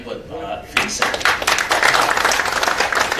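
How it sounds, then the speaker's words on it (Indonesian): An audience at an FGBMFI outreach seminar breaks into lively clapping after a short stretch of a speaking voice, with the applause building and staying steady to the end. "Tepuk tangan buat Pak Vincent."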